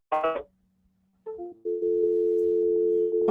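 A telephone dial tone rings out steadily after a dropped conference call, preceded by a brief chime-like beep and a short tonal blip, clear and alone without voices.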